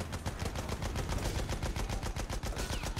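Continuous gunfire in the Battlefield 1 video game, dense rapid shots firing steadily with no break, at moderate loudness.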